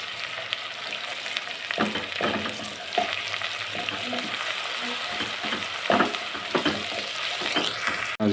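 Ginger-garlic paste fries with browned onions in a pan for kadhi, a steady, close sizzle broken by repeated scraping stirs and small clinks of a spoon against the pan.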